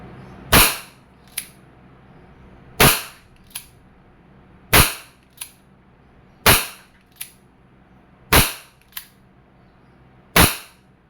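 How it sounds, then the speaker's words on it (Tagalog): Wingun 708 airsoft revolver, 2.5-inch version, fired single action: six sharp loud shots spaced about two seconds apart, each followed by a faint short click, with no talking. "Ang testingin muna natin yung single action"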